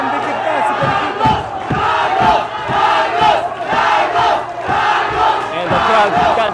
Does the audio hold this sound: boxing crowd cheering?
yes